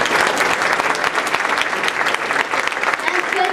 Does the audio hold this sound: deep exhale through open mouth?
no